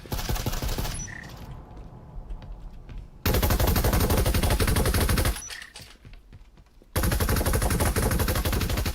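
Gunfire from Breachers VR, a virtual reality tactical shooter, heard during a league match: loud, rapid bursts of automatic fire in two long sustained stretches, separated by quieter gaps that hold sparse single shots.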